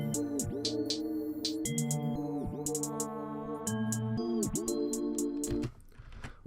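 A programmed FL Studio drum beat loops with on-tempo hi-hats ticking evenly over booming bass kicks and layered tones, a steady mechanical groove with no talking.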